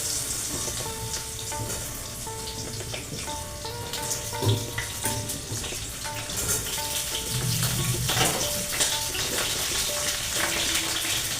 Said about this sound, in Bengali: তেজপাতা, অল্প একটু পাঁচফোড়ন দিয়ে পটলগুলো দিয়ে দিলাম।